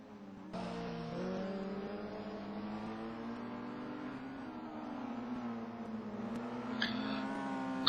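A race car in the GRC Division 1 series at Donington rounds a corner and heads onto its hot lap. The engine note climbs and falls steadily at a moderate distance, with a brief louder burst near the end.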